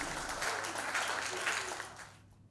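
Students applaud at a school commemoration of the San Giuliano di Puglia tragedy, a dense, steady clapping from a crowd that swells, holds, then fades away toward the end.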